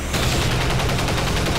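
Rapid gunfire bursts from the video game XCOM 2: War of the Chosen, dense and loud, a steady fusillade of overlapping shots with no pauses.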